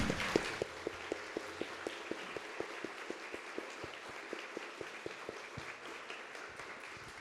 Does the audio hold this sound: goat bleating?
no